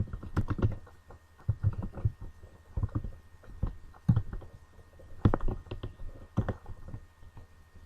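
Typing on a computer keyboard, a series of close, uneven clicking keystrokes arriving in short bursts with gaps between them, with no talking.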